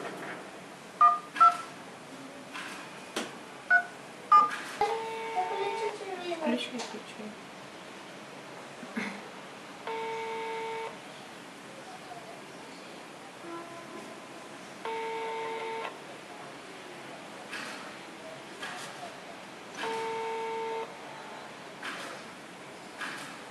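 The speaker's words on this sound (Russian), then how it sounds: "Никто не отвечает на телефон." Phone keypad tones beep out a number in quick bursts, then a ringback tone repeats at steady intervals with no answer, close and clear over faint room noise.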